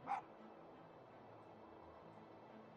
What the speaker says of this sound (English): and now I'm gonna bark at you.